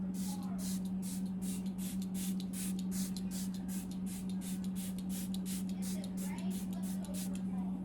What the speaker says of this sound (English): Go ahead and spray it.